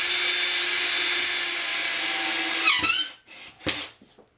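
A power drill drives screws into drywall, whining steadily and close for nearly three seconds before stopping, followed by a couple of short bursts and rustles.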